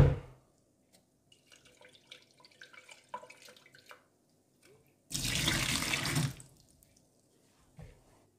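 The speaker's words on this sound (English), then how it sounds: "Just chuck a bit of boiling water in there" Boiling water is poured into a homebrewing container in one steady, fairly loud gush lasting about a second, after some quiet clinks and light handling sounds.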